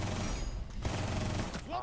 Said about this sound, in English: We just keep firing into it.